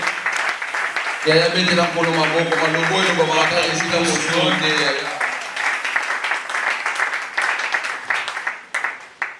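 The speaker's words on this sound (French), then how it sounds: "Acclamez pour la gloire de Dieu" A church congregation applauds throughout while a voice speaks or calls out over the clapping early on, then the applause carries on alone with loose, scattered claps.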